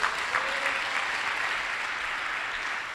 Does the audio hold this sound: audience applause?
yes